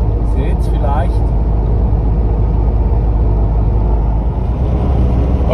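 A camper van drives over mountain roads on a toll-free route through France toward Spain, giving a steady, continuous low engine and road rumble with constant tyre noise throughout.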